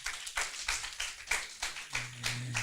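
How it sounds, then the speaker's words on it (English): A small audience applauds a student group at the closing session of a university summer course, steady rhythmic clapping from a few people, fairly faint and distant, with a low hum coming in toward the end. "give applause for Group 10"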